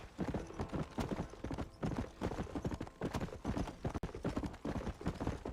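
A wild horse gallops in the Red Dead Redemption video game, with steady, rapid clip-clop hoofbeats running throughout and a brief whinny; a faint voice murmurs underneath.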